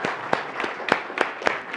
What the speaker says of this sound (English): So if we can stand up and give them a round of applause.